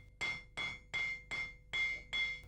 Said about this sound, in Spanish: Después de estirar el hierro con el martillo más grueso